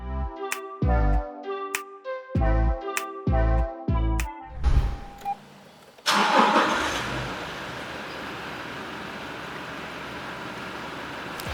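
A diesel Toyota Land Cruiser Prado TZ.G 2020 SUV sounds a series of electronic chime tones, then its engine starts and settles into a steady, close, rumbling idle.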